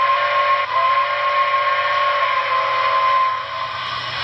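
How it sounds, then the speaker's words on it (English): The default whistle of a Broadway Limited Santa Fe 4000 class 2-8-2 model steam locomotive with Paragon 4 sound: a steady, chord-like whistle blows continuously for about four seconds, loud and close, then cuts off, with no talking. "So here's the default whistle."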